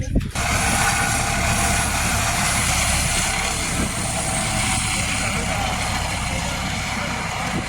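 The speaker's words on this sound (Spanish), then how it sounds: "Un helicóptero rompe el silencio y vuela sobre Carraigoya" A helicopter flies over the snowy Canal Roya mountains near Anayet, producing a loud, steady rotor and engine roar that stays continuous throughout, with wind-like broadband noise.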